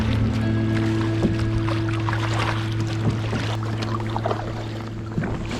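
A kayak rides sea waves off East Lothian, with steady wash and splashing of water against the hull, a few light knocks, and a constant low hum underneath.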